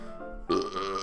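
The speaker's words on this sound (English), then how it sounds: "this is making me burp" A single short, close burp rising abruptly out of quiet background tone and then trailing off, with no talking over it.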